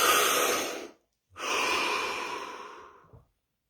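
Two long, deep breaths, each a broad airy inhale or exhale lasting about a second and then nearly two seconds, separated by a short silence, close and clear with no talk.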